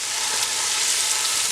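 Garlic and ginger paste fries in hot coconut oil with a steady, close hiss and sizzle. No voices can be heard over it.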